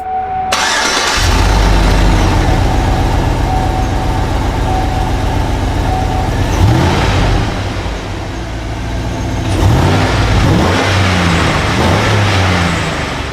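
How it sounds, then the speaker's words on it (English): A GMC Yukon engine fitted with a simplified aftermarket intake starts and revs with a grunty tone, settling to a steady idle between two louder rev swells, close and loud with no talk. "we removed the huge intake and replaced it with a more simplistic intake, and gave the engine a bit of a more grunty noise"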